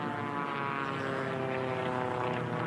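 A Formula One class racing propeller airplane roars past at the Reno Air Races, a loud, steady, buzzing engine drone that holds evenly throughout with no voices over it.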